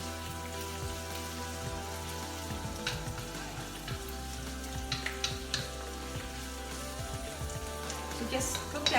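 Sausage for pancit fries in a pan with a soft crackling sizzle, quiet and steady under faint clatter and a murmuring voice.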